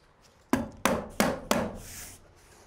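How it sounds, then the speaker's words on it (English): A hammer tacker drives staples through building paper into a wall, four sharp, evenly spaced thwacks close up, followed by a brief rustle of paper, with no talking. "I'm using a hammer tacker to hold the paper in place."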